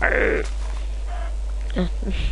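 A grey sheep bleats in a video game, a short wavering cry at the start followed by fainter bleats, while someone talks over it.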